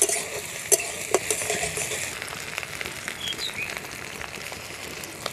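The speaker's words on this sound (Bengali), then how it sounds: "আদা রসুনটাকে ভালো করে কষিয়ে নেব" Ginger and garlic paste stir-fried in hot oil for duck curry, a steady close sizzle broken by scraping stirs and sharp ladle knocks against the pan.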